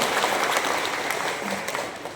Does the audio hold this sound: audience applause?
yes